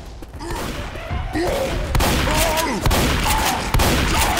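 Loud sustained gunfire in Left 4 Dead 2 rattles away in repeated bursts against a zombie Tank, layered with game effects and heavy thumps.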